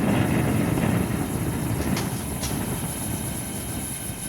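A gas forge burner roars with its choke nearly closed, a loud, dense, continuous rushing that holds steady and eases slightly toward the end.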